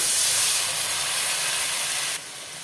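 Water poured into a pan of frying spiced potatoes sets off a loud, continuous sizzle and hiss that holds steady for a few seconds before dropping slightly.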